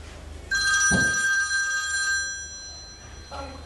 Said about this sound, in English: It must be my phone.